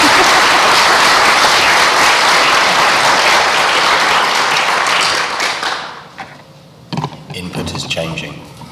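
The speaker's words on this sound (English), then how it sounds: "So can we have a round of applause, please?" Conference audience at a plenary session breaks into sustained loud applause that fills the room for about six seconds, then thins out into scattered claps and a few voices as it fades.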